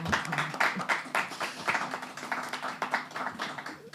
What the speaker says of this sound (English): let's firstly say hello, welcome, and applaud for them